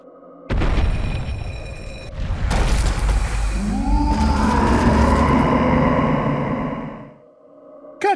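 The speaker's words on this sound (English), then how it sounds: "That was the sound of the Inking King" A booming, explosive burst opens the Inking King boss encounter in DuckTales Remastered, followed by rumbling mechanical game effects and a rising, swirling tonal wash that fades out, loud and alone without talking.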